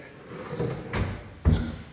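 A large drawer of a small modular kitchen cabinet slides and thuds shut, with a couple of soft bumps before a firm closing knock.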